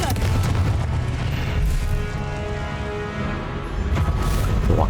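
Spell blasts in the video game Hogwarts Legacy from the Confringo blasting spell, heavy booming explosions with rumbling low-end and whooshing bursts, loud and sustained, with a voice calling out over them.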